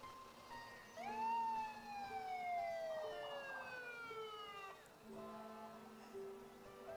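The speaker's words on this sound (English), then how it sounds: "The siren's good. Siren works." A fire truck rolling through a Christmas parade winds up its siren, a wailing tone that climbs and slowly falls, heard moderately close with a brief horn-like blast near the end.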